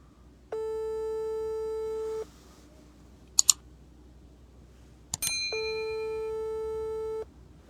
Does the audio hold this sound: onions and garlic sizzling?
no